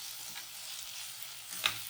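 Onion and spice mixture frying in a pan for Hyderabadi dhaba-style paneer gravy, a faint steady sizzle with a soft stir and a brief clink near the end.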